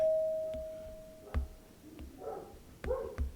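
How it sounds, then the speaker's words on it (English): Doorbell ringing indoors, a single sustained electronic tone at the start followed by scattered dog barks and yips, fairly faint with no talk. "I don't know who just rang the doorbell"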